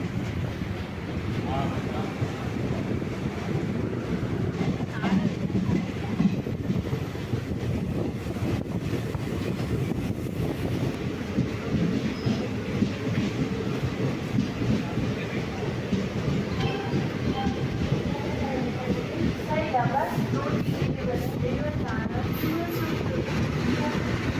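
KSR Bengaluru InterCity SF Express passenger train running between Ernakulam and Coimbatore, a steady rumbling roar of wheels and carriage noise with wind buffeting, continuous and fairly loud throughout.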